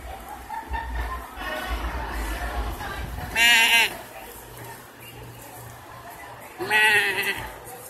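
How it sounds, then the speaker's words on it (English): Two loud, wavering goat bleats nearby at a county fair, a few seconds apart, with a person talking quietly in between and faint background noise. "now we're back over into some more goats"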